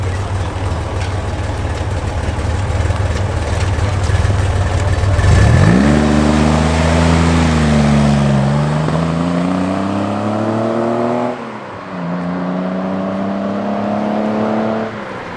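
A classic car at a New Year's Day classic British car meet, a late Hillman Husky based on an Imp with twin exhaust pipes either side, revs up from idle, its engine pitch climbing in two long loud pulls close by.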